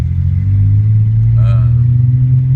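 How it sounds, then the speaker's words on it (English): A car drives down the main street of San Felipe in Baja, Mexico, with a loud, steady low engine and road rumble inside the cabin, while a voice talks briefly over it. "We're driving down the main street."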